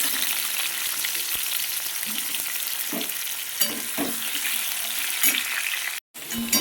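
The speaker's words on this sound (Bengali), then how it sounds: "আলুগুলো একটু লাল লাল করে ভেজে নেব।" Steady sizzling of potatoes frying in hot oil, with a few sharp clinks and stirring taps cutting through the continuous crackle.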